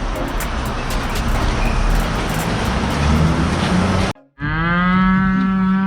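Cow on the Isle of Wight giving one long, loud, close moo near the end, after several seconds of roadway and traffic noise.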